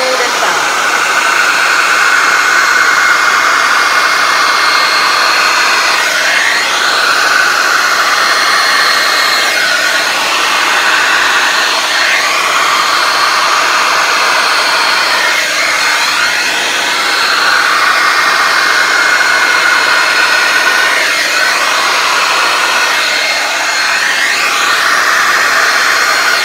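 A hair dryer blows continuously over paint in a Dutch pour, a loud steady whir with slow rhythmic swells as it moves across the surface.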